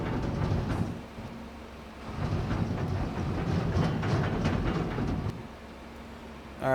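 In a video game set at Riverbend Springs, a train rolls along rails with a steady mechanical rumble and faint rhythmic clatter. The sound is moderately close, dips briefly twice, and plays without any talking.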